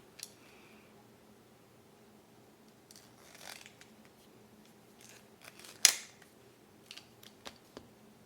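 A hole punch is driven through layers of fabric for a rivet on a sewn range bag, making a few sharp clicks and crunches, one much louder near the middle, over a quiet room.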